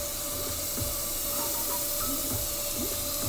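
An airbrush with its trigger pulled all the way back sprays paint on compressed air, giving a steady close hiss that runs unbroken for a few seconds with no voices.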